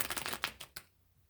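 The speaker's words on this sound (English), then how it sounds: "I have been shuffling" Tarot cards are shuffled close up in a quick riffling burst of crisp flutters, followed by a couple of distinct final snaps before falling quiet.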